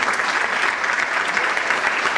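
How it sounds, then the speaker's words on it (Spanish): A crowd applauds a newly presented school council candidate at a Partido Justicialista candidate presentation in Bragado, Argentina: dense, steady clapping that fills the room at an even, fairly loud level throughout. "Fuerte el aplauso."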